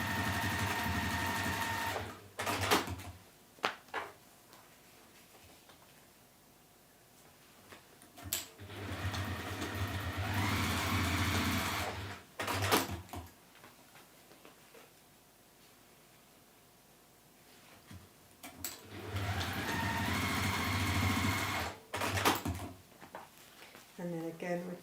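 Sewing machine stitching back and forth on a modern handled bag in a workshop, running in three loud bursts separated by quieter pauses with a brief voice between them.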